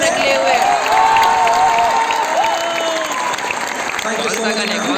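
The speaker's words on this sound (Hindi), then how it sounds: "आपकी तरफ से भी जोरदार तालियां होनी चाहिए।" Applause and cheering from a college audience at the Subhaarambh 2022 event in Patna, a dense continuous wash of clapping and crowd noise filling the short clip, with a voice over it.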